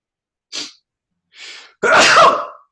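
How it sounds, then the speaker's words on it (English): A single loud sneeze, preceded by two short, softer breathy intakes, close to the listener with silence around it. "something's just making me sneeze"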